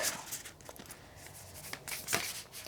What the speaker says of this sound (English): This does not want to shuffle, does it?